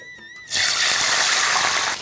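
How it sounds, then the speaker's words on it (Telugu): Water gushes steadily into a pan for semiya kesari, a loud, continuous pour lasting about a second and a half before tapering off, with no talking over it. "ఇప్పుడు దీంట్లో రెండు బౌల్స్ నీళ్లు దాంట్లో వేయాలి."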